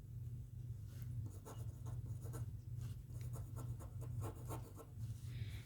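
Chalk or marker writing an equation on a classroom board, a faint run of quick scratchy strokes with irregular rhythm over a low room hum.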